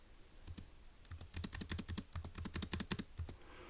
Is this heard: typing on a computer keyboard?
yes